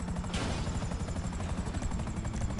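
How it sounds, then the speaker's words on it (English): Helicopter called in during GTA gameplay, a steady low rotor thrum filling the whole stretch with a brief brighter burst near the start, dense and continuous without talk. "I called a helicopter"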